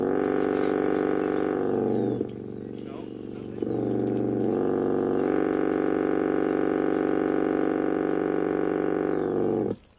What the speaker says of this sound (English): A more steady stream of water.